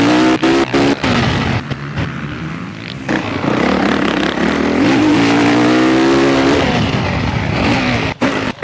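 A motocross dirt bike on a track with a large table top jump, its engine loud and near, revving and rising in pitch as it accelerates, with a few sharp bursts around it.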